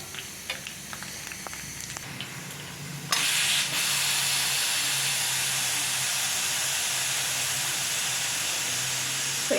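A pressure cooker vents steam in a loud, steady hiss that bursts on sharply after a few quieter seconds and then holds constant, with faint clatter before the release.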